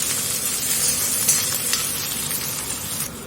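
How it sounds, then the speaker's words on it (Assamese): Chopped onions fry in hot oil with whole cumin, giving a dense, even sizzle with crackling spatters, steady and close throughout. "পিঁয়াজখিনি দি অলপ ৰঙচুৱা হোৱাকে ভাজিম।"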